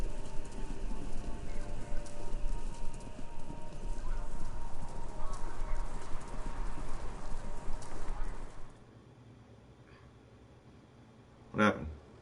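Horses clip-clop along a road in the Kentucky Route Zero video game, a steady run of hoofbeats over ambient noise that cuts out abruptly, followed by a brief sharp sound.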